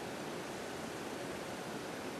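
A spray bottle mists water onto a craft sheet while distress inks and oxides are being mixed into paint, giving a soft, steady hiss that runs evenly for the whole moment.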